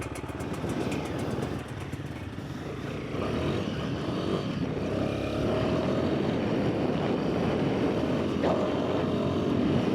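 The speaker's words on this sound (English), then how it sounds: "what I'm riding at the moment is a pretty stock Himi" A stock Royal Enfield Himalayan motorcycle fitted with good tyres, ridden at a steady rally pace, its engine droning loud and close with wind rush throughout, growing a little louder after the first few seconds.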